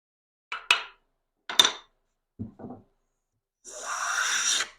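A hand plane with a wear bevel on its ramp taking shavings off wood, several short rasping and knocking strokes followed by a longer, smoother hissing pass, close up and with no talking.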